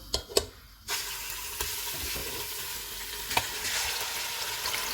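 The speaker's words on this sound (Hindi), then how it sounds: "ऑयल गर्म हो गया है, इसमें मटन डालेंगे।" Steady, loud sizzling of mutton frying in hot oil, a continuous crackling hiss with a few sharp pops near the start.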